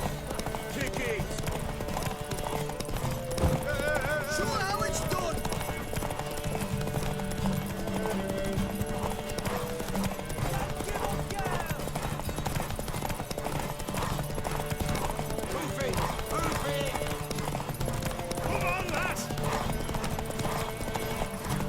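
Rhythmic horse hooves clip-clopping at a steady pace in The Witcher 3: Wild Hunt on PS5, mixed with game music and occasional voices talking over it.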